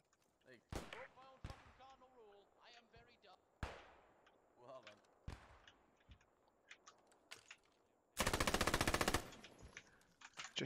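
Machine gun fire in the World War II shooter game Post Scriptum, scattered single shots and then a dense sustained burst near the end, loud and close, with voices talking over radio between the shots.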